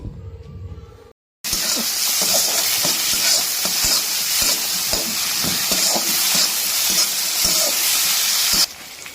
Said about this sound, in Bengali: এই পেঁয়াজ টমেটো এবারে একসাথে ভালো করে একটুখানি ভেজে নিতে হবে